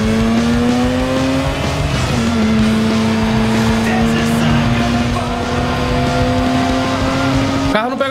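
Car engine in the Need for Speed: Underground 2 racing game on PS2, a steady loud droning whine holding pitch with a brief shift partway, continuing almost unbroken throughout.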